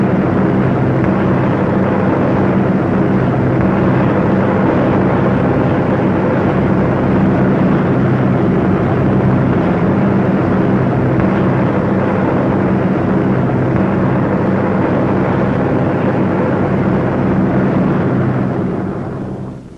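Several World War II B-17 Flying Fortress bombers fly in formation after a bombing mission, giving a loud, steady, continuous multi-engine propeller drone. It holds for the whole stretch and fades slightly at the end, with no voices.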